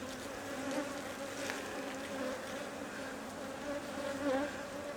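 Honey bees buzzing during a hive inspection: a steady, faint droning hum of many bees close around, with occasional individual bees buzzing louder as they pass, no voices.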